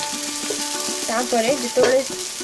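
Onions fry in oil for an Odia potato and poppy-seed curry, giving a continuous soft sizzle close by, with a brief louder burst near the end.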